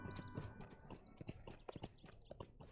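Horse hooves clip-clop at a steady walking rhythm in Lord of the Rings Online, a string of sharp, close hoof knocks with no voices over them and a little game ambience around.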